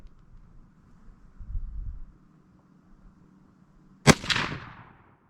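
A Henry Big Boy lever-action rifle fires a single 125 grain Remington jacketed soft point round at an outdoor range. It gives one sharp, loud report with a short echoing tail after a quiet stretch of light wind.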